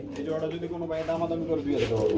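Caged pigeons cooing at a wholesale pigeon farm, a steady overlapping murmur of soft coos close by, with people talking throughout.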